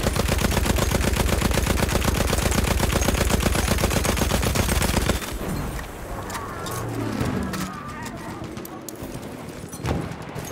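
A Lewis gun in a WWI video game fires one loud, close automatic burst of rapid, evenly spaced shots for about five seconds, then stops, leaving quieter battlefield rumble.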